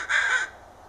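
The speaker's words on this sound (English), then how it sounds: "Here is quirr crow in a particularly enraged state, and caw crow can be heard in the background" An enraged crow gives one loud, harsh caw up close, and a faint second crow is barely audible behind it.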